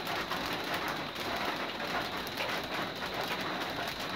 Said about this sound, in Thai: มันจะโดนน้ำฝนจากเม็ดฝนลงมานี่แหละครับ